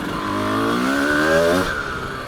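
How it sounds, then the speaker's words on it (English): A 2025 TM 300 two-stroke motorcycle engine revs up, its buzzing pitch climbing smoothly and swelling louder, then easing back slightly, heard fairly close and alone. "when you hit the throttle a little bit more, it just wakes up"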